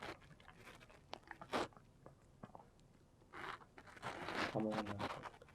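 A pet dog eating potato with crunchy bites and wet chewing, in short close bursts between quiet gaps. People talk softly in the background.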